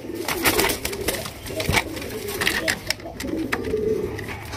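Pigeons coo repeatedly at a pigeon farm, with low throaty calls close by and overlapping, while people talk over them.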